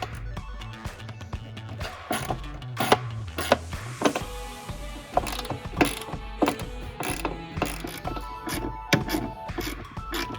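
A hand ratchet loosens 12mm bolts on the air box of a Toyota Tacoma, giving rapid clicking runs broken by clunks and tool knocks, close up, with no talking.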